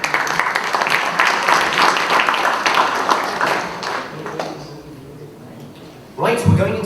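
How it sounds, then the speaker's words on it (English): A conference audience at the London Global Convention on Corporate Governance and Sustainability gives a dense round of applause that thins and fades out over several seconds before a voice comes in close. "Round of applause for our amazing speakers"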